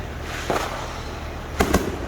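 Neighborhood fireworks on Independence Eve in Missouri, set off close by near a mailbox: two sharp bursts, the second a quick double crack, over a steady outdoor background hiss.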